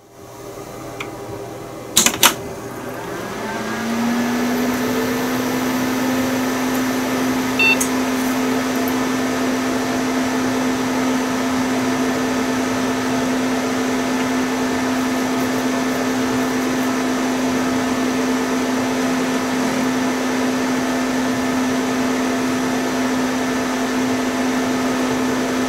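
A liquid-cooled Pentium D 965 computer fires up with a couple of sharp clicks, then settles into a loud, steady whirring hum with a constant tonal drone from its fans and pump.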